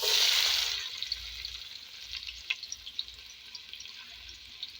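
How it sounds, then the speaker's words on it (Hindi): Onions hit hot oil with a loud burst of frying sizzle that settles into a steady, quieter crackle with small pops, close by and without talk, while an ojri salan is being cooked. "ऑयल हमारा गर्म हो चुका है। अब हम इसमें प्याज शामिल करेंगे।"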